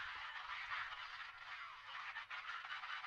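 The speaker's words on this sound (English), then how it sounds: "That way I was able to create some type of vinyl sound" Chopped sample filtered with EQ into a thin vinyl-style surface noise for a lo-fi beat, a faint, steady midrange hiss with slight fluttering texture throughout.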